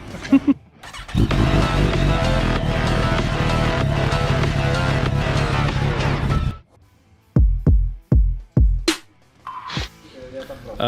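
A loud Harley-Davidson motorcycle engine roars steadily up close, then cuts out, followed by several sharp throttle blips and revs.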